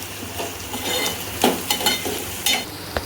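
Asafoetida dropped into hot oil while Girnari khichdi cooks, a steady close frying sizzle broken by a few louder stirring scrapes and clinks.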